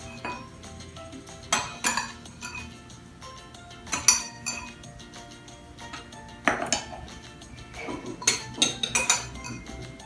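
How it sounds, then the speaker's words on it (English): A metal spoon scoops flour into a measuring cup for Nutella brownies, giving a series of close, bright clinks and scrapes in irregular clusters against a quiet background, with no talking. "So just spoon in your cup of flour."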